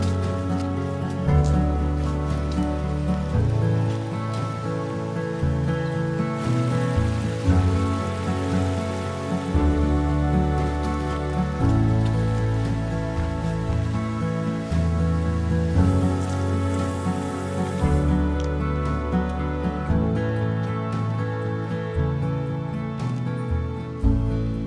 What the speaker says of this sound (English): I thought the rain was stopping